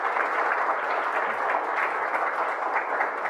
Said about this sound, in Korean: 너무 성실하게 열심히 발표해 주신 학생분께 다시 한번 큰 박수 부탁드리겠습니다